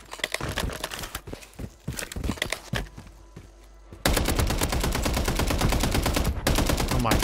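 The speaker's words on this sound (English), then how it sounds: "Oh my god, this gun is horrible." Warzone 3 gunfire on the Urzikstan map: separate sharp shots and short bursts at first, then a loud, continuous stretch of automatic fire for the last few seconds.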